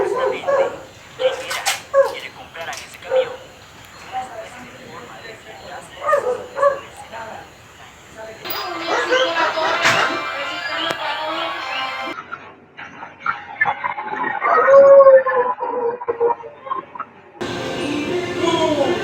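People imitate a dog's barking and yipping with their voices, in short repeated bursts mixed with talking and laughter.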